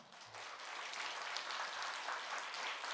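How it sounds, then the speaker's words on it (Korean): Church congregation applauding to welcome a missionary back from work in Kenya, a steady, dense wash of clapping that swells in and holds at a fairly even level throughout, with no voices over it. "큰 박수로 환영하겠습니다"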